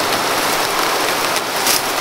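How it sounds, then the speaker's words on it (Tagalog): Heavy rain pours down in a dense, steady hiss of drops hitting surfaces, loud and unbroken with no voices. "Lakas ng ulan tol."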